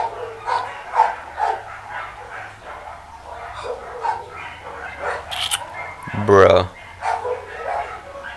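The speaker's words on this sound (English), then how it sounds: "every now and then, dogs start barking like crazy" Dogs bark repeatedly outside an open window in Mexico, a mix of distant and nearer yaps and woofs with one louder burst, while a person speaks briefly indoors.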